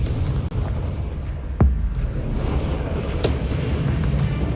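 A Confringo spell in Hogwarts Legacy sets off a deep booming blast with a sharp burst, followed by a second fainter pop over a low rumbling game ambience, with no talking.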